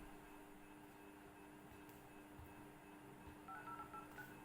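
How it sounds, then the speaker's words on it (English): A Poco C55 phone's dial pad plays a few short, faint keypad tones near the end, set against a quiet, steady background hum. "if you enter the number on your dial pad, so friends you can use dial pad sound"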